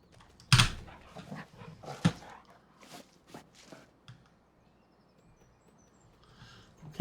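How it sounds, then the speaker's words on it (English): A dog in the Farming Simulator 25 video game gives a few sharp barks and soft whimpers near the start, followed by scattered footstep-like taps that fade into near silence. "Oh, hi, dog."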